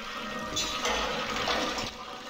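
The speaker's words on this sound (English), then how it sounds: "now we can flush the toilet" A toilet flushes in the game Killer7, a moderately loud watery rush of running water lasting a couple of seconds, heard alone with no talk.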